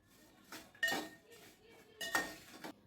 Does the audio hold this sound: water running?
no